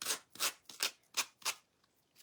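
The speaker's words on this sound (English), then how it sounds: "So I'm just sanding down this way" Sandpaper rubbed in downward strokes along the edges of a wood earring blank, about six short rasping scrapes in a steady rhythm, close and quiet.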